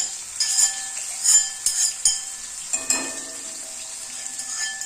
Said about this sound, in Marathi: आपलं तेल गरम झालेलं आहे त्यामध्ये आपण सगळी मिरची काढून घेऊया